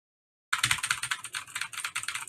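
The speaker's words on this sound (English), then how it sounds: "I had a silent keyboard that I replaced with this loud keyboard" Loud computer keyboard typed on quickly, a dense run of clacky keystrokes close up, alone after a short silence.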